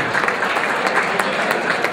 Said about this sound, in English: With Anthony, a round of applause, please.